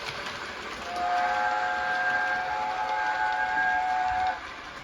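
A model locomotive's sound-fitted steam whistle, a Hornby OO gauge LNER P2, sounds in one sustained blast of a few seconds over a steady background hiss, moderately near.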